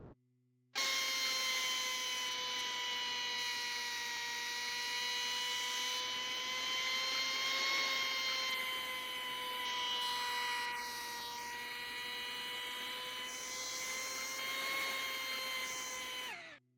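A surgical saw in a VR knee replacement game makes the posterior cut, a steady whining mechanical drone with sustained tonal harmonics that holds loud and continuous for about sixteen seconds.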